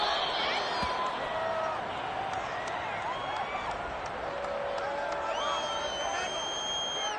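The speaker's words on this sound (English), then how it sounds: "this crowd does not like that call. Understandable reaction from them" A stadium crowd in a Madden football game reacts to a penalty call, a steady broad roar of many voices with scattered whistles and shouts running the whole time at moderate distance.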